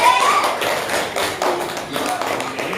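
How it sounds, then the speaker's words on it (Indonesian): Classroom applause from a group of students, a dense patter of overlapping claps that continues steadily at moderate loudness, with some voices mixed in. "Tepuk tangan."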